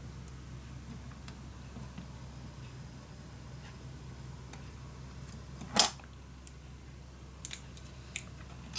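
Small piece of paper cut with scissors in a steampunk Christmas letter craft, one brief crisp snip after a quiet stretch, then a few faint clicks and ticks.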